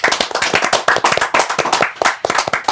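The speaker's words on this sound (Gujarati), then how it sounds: "એક વખત જોરદાર તાળીઓ વિનોદભાઈ માટે" A room of people claps loudly for a man named Vinodbhai at a Gujarati film discussion, dense rapid handclaps running steadily throughout with no talking over them.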